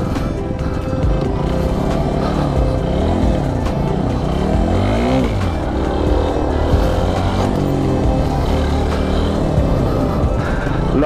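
A motorbike being revved during wheelie and stoppie practice, loud and close, with its engine pitch climbing and dropping in repeated sweeps over a constant rumble throughout.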